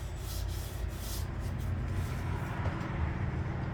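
The hood of a 1958 Johnson CD-15 outboard motor being sanded by hand, a continuous close rasping rub with steady strokes filling the whole stretch, no speech.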